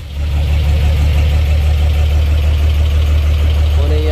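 A Japan surplus Suzuki Multicab's engine starts up and settles into a steady, loud idle with an even low throb running close by, and a voice briefly speaks near the end.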